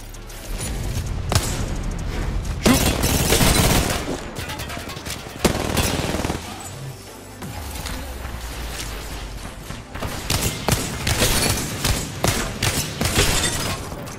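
Rapid video-game gunfire rattles in dense bursts while shooting enemies, loud automatic volleys broken by brief lulls and a few heavier thuds, with no talk over it.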